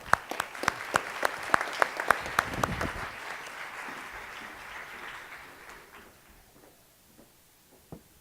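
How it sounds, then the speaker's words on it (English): A talk audience breaks into applause, starting with sharp, distinct claps that merge into a dense burst, then tapering over several seconds into scattered, fading hand claps with a final lone clap. "Guys, give them a round of applause."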